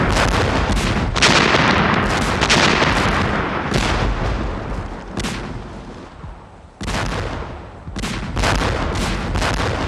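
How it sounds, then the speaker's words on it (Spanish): Rapid, heavy British artillery fire in a 1916 First World War bombardment, with booming blasts one after another in a dense barrage and only brief lulls. "la artillería británica lanzó grandes explosivos sobre las posiciones alemanas en un bombardeo"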